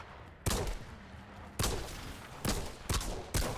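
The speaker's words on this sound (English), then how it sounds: "What a mysterious firing animation." Bursts of gunfire from the shooter game Outriders, several loud separate volleys in an uneven rhythm, close and alone with no talking.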